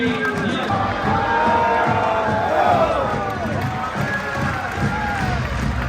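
A crowd at a volleyball match between Pallavolo Padova and WithU Verona cheers and claps continuously, a loud, dense roar of voices and applause filling the arena.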